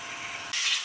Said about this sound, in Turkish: Balata spreyimizi sıkıyoruz.